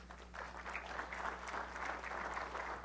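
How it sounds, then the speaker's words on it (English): A conference audience claps together, a steady patter of applause from a room full of people, moderately distant and sustained over a low background hum. "if you're clapping for the theory"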